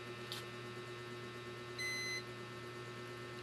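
A single short electronic beep from a multimeter in continuity buzzer mode sounds, clear and high-pitched, over a quiet steady hum.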